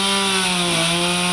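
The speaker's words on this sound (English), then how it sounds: "With chainsaws buzzing in the background" Chainsaws cut through trees felled by a storm, making a loud, steady buzzing drone that runs without a break.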